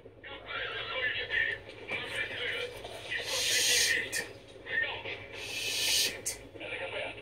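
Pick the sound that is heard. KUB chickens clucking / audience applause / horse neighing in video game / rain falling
horse neighing in video game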